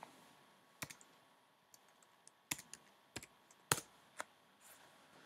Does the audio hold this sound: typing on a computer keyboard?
yes